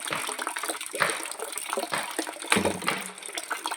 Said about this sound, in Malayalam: ടാങ്കിൽ നല്ല വെള്ളം നിറയുന്നുണ്ട്